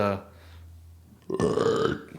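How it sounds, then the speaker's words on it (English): A man burps in the middle of talking: a short burst of speech, a quiet pause, then a loud, drawn-out, gravelly belch of about half a second, close and clear. "he will burp in the middle of talking."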